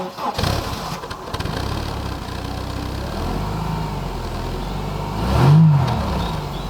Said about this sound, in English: There we have the Mercedes running.